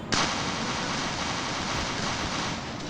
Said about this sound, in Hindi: पावरफुल गन्स थी और उनने मुझ पर मारना शुरू कर दिया